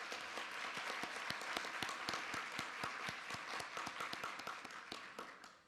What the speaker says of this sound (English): I would give a round of applause for Julie Baker.